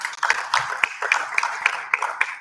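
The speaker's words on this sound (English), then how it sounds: "A round of applause for them, please." An audience applauds panelists at a tech conference session, a steady patter of clapping with sharp individual claps standing out throughout.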